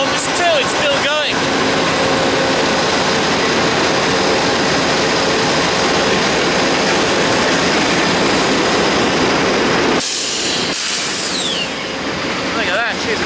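A long freight train rumbles past continuously in Marshall, Texas, loud and close, with a rolling, clattering roar; brief high squeals come and go near the start and end.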